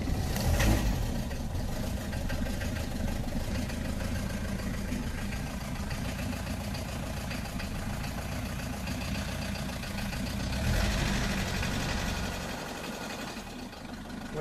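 A 1972 Mercedes W 115 diesel engine idling nearby, a steady low clattering rumble running continuously with a slight swell near the end and no talk.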